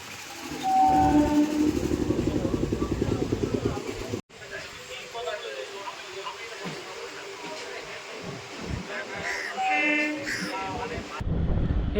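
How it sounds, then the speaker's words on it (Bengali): A Majerhat local train runs beneath the Second Hooghly Bridge in Kolkata, its rumbling wheels and carriage noise loud and close, with a brief horn toot near the end and a voice talking over it. "এর নিচ দিয়ে আমাদের ট্রেনটা এখন যাবে"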